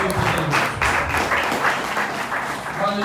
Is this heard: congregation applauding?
yes